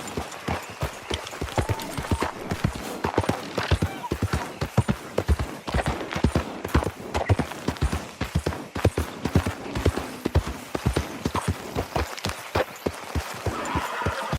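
Horse hooves clip-clop steadily along a trail in Red Dead Redemption, a close, brisk, continuous rhythm of hoofbeats running the whole way through.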